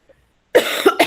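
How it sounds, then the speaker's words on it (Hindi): A woman gives a single close, sharp cough during a Srimad Bhagavatam class, a short harsh burst with a quick second catch at the end, after near silence. "मुझे बहुत खांसी आ रहा है।"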